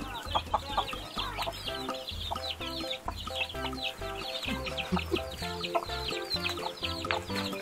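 Hens and chicks at a rabbit and poultry farm cluck and peep busily and continuously, close by, with overlapping calls throughout.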